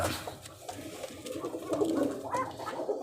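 Domestic pigeons coo softly in a low, murmuring rhythm, a few overlapping calls close by in a quiet indoor coop, steady and unhurried throughout.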